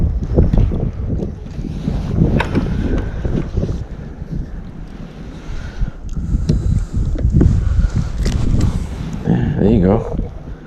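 Strong wind buffets a kayak on open water, roaring and gusting across the microphone with lapping water beneath, while someone talks in between the gusts.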